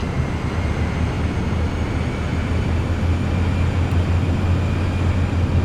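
A Cirrus Vision Jet taxiing in Microsoft Flight Simulator 2024, a steady low jet engine whine and rumble that stays constant and close throughout, with no talking over it.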